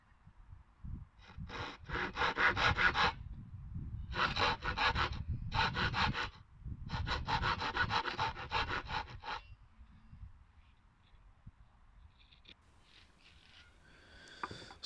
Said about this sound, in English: So I clamped the piece down and I just saw the shoulder lines.